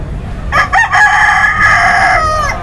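A rooster crows once, loud and close, with a rising then long sustained call at a Sunday country-chicken market in Ongole, small fighting-breed birds nearby; no one talks over it.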